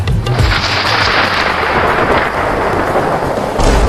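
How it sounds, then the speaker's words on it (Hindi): Loud rolling rumble of thunder, sustained and heavy, with a hissing wash like rain underneath. "देखो कितना बादल गरज रहा है"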